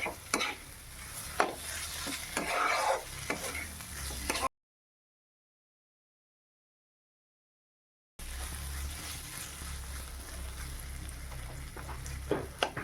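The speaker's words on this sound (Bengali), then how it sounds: "মুগ ডাল দিয়ে কিন্তু একটু হাই ফ্লেমে খুব ভালোভাবে মুগ ডালটাকে মশলার সাথে ভেজে নিতে হবে" Soaked mung dal frying with spices over a high flame, a soft sizzle with scraping stirs and clicks, broken by a few seconds of silence midway.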